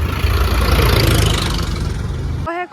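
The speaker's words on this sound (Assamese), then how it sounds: "ট্ৰেক্টৰ এখনো দেখাই দিছোঁ" A tractor engine rumbles loud and close, a steady low idling throb with a mid-range drone, then cuts abruptly near the end as a brief tonal sound takes over.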